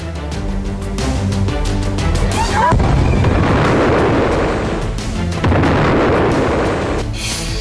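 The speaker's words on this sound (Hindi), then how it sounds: "बेरूत में रात भर चले हमलों में इमारतों के नीचे इकट्ठा की गई दर्जनों एंटी शिप मिसाइलों को नष्ट कर दिया गया" Loud, continuous booming blasts from overnight strikes on missile stockpiles beneath buildings in Beirut, with rumbling roars rising and falling for several seconds and no speech over them.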